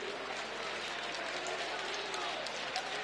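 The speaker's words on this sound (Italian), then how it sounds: "applauditissimo dai suoi tifosi" Home fans at a Germani Brescia versus Givova Scafati basketball game applauding substituted player Petruccelli, steady crowd clapping and cheering filling the arena under a commentator's voice.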